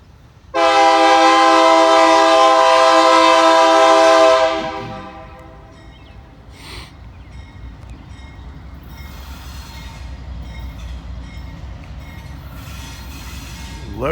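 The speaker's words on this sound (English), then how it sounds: "Loaded rock train." A loaded rock train passes: a loud, sustained horn blast for about four seconds, then a steady rumble of the rail cars rolling by at a distance, with no speech.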